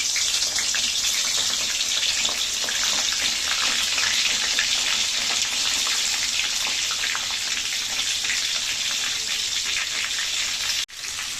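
Masala-stuffed eggplant sizzles and fries steadily in hot oil in a kadhai, a loud, dense crackling hiss that runs unbroken before a brief dip at the very end.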